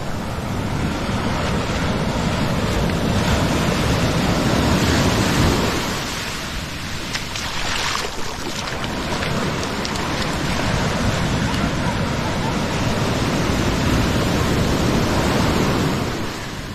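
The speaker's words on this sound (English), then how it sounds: "Have a little bit of surf here, a couple feet high" Surf about two to three feet high breaking on the beach at Nags Head on North Carolina's Outer Banks, a loud steady roar of waves with wind buffeting and a swell of crashing water around mid-clip.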